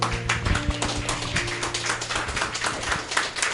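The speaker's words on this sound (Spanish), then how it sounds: "¿Qué tal si le damos una ofrenda de aplausos al Señor?" A church congregation gives steady, sustained applause, many hands clapping together with a low hum of room tone underneath.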